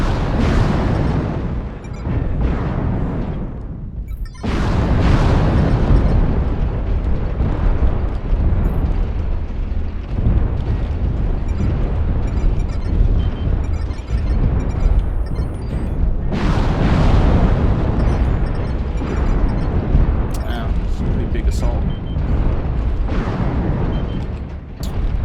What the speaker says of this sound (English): And here comes all of their missiles.